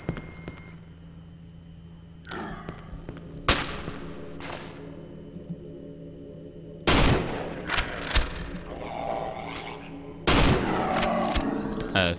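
Shotgun blasts in the horror game Cry of Fear, a handful of loud, sharp reports spaced several seconds apart over a low humming background, some followed by brief clattering.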